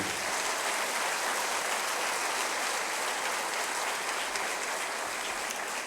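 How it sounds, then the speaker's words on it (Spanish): A church congregation applauds during a sermon, a steady wash of many hands clapping at once that stays even and continuous from start to finish, heard at some distance with no voices. "Denle un aplauso al Señor."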